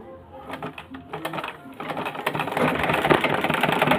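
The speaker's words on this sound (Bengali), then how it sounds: "আপনাদের আমি একটু সেলাই করে দেখাই" A sewing machine stitches cloth close by with a rapid, steady mechanical chatter that builds in loudness, starting lighter and growing denser and louder toward the end.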